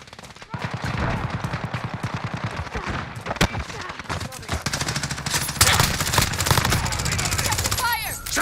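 Rapid automatic gunfire in Call of Duty: Modern Warfare multiplayer on PS5, with dense bursts of close shots rattling almost continuously and a few heavier single blasts, while voices call out intermittently underneath.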